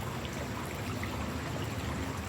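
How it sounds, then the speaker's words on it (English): Steady rush of a swift-flowing stream heard up close from among the rocks, an even, continuous wash of water with no speech. "Why is the water moving so fast?"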